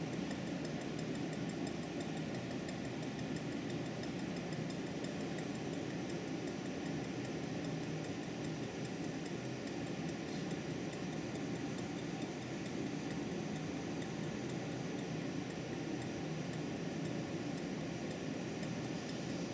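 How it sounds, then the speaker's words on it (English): An air compressor runs steadily in a steam workshop, a continuous broadband mechanical drone with a faint ticking rhythm that holds at an even level throughout, with no talk over it. "was from the compressor working in the background."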